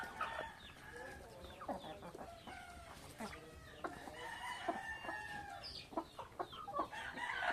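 Chicks and young hens cluck and peep steadily while pecking at scattered feed, with frequent overlapping calls close by and a rooster-like crow in the mix.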